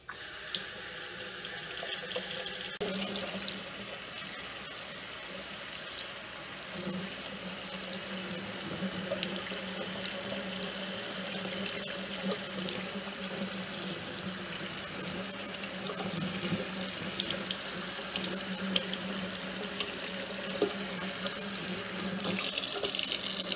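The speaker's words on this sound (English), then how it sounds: "when I'm running it under the water, I just want to make sure that the water is draining fairly quickly" Tap water runs steadily through orchid potting mix while a Phalaenopsis is repotted, a close, continuous splashing and draining rush lasting throughout with no talk.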